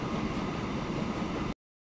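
Train in the Transport Fever game rolling out of a station, a steady low rumbling rail roll that holds evenly for about a second and a half, then cuts off abruptly into silence.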